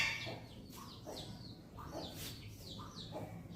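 Hens being let out of their coop on a rooftop in a family neighbourhood, clucking and calling in short repeated bursts at moderate distance over a steady background hum.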